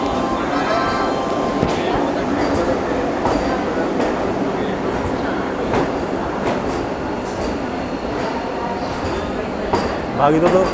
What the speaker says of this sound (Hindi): दोस्तों ये वंदे भारत है ना, ये 20 कोच वाली वंदे भारत है, सैफरॉन वंदे भारत 20 कोच।